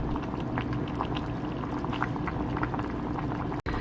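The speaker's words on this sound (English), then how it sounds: "I'm just gonna put the boiling hot soup over it" Boiling hot soup loaded with vegetables, seafood and tofu bubbles steadily in a full pot, a dense, continuous simmering hiss with small pops, close and fairly quiet, ending in a brief sharp click.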